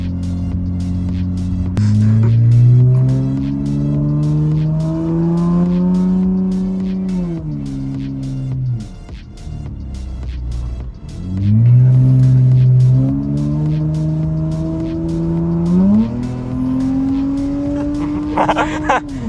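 A Honda engine with VTEC revs hard on a snowy back road, rising and falling in pitch across two long pulls with a brief dip between them. It is loud and close, with some voice over it.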